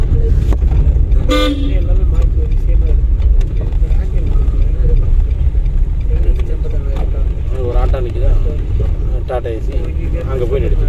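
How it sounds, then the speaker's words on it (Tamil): A single short car horn toot sounds during a driving lesson, standing out over a constant engine and road rumble inside the vehicle, with people talking nearby. "இதோட ஒரு ஹார்ன் அடிச்சிருக்கீங்க"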